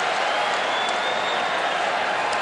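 Steady, sustained applause and crowd noise from a packed stadium at a US Open tennis quarterfinal at night, an even wash of clapping with no breaks, while a commentator talks over it.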